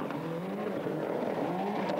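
A Toyota Celica rally car, once driven by Carlos Sainz, races through a 1996 Danish rally sprint, its engine roaring steadily with the whine of hard acceleration and faint tire noise throughout.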